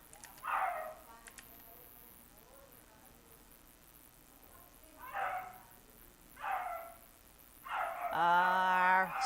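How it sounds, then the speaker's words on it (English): A dog barks in several short, separate bursts a few seconds apart at moderate distance, ending in a louder, more tonal yelping bark, with quiet background and occasional voice between. "Oh God, that is a noisy dog."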